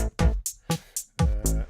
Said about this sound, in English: there's a couple of different bass sounds in here